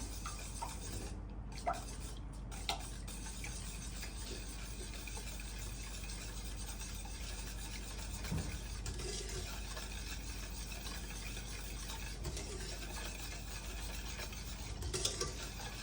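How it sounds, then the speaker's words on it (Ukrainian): Soft, steady scraping and swishing of a utensil stirring a thick sour cream dessert mixture, close by and continuous, with a few faint clinks. "так легенько розмішаю."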